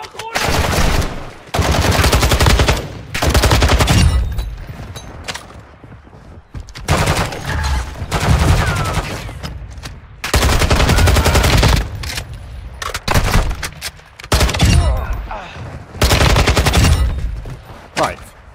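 Bursts of automatic rifle fire in DMZ come in long, loud, repeated volleys separated by brief pauses, with no talk over them.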